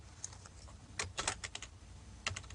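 Typing on a computer keyboard: scattered crisp key clicks, a rapid cluster in the middle and a final short run, close and faint over a low background hum.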